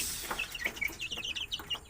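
Bangkok breed chickens cluck and chatter in quick, irregular bursts, several birds close by in a brooder box over a quiet background.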